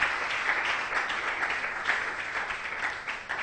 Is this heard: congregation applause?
yes